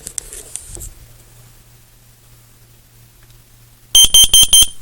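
A hallway carbon monoxide detector sounds its test alarm: after faint handling noises and quiet hum, four loud, piercing electronic beeps ring out in a steady rhythm close to the microphone.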